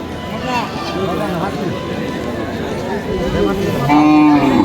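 Cattle at a rural livestock haat in Nalitabari before Qurbani, with a low moo near the end amid a busy crowd of people talking loudly nearby.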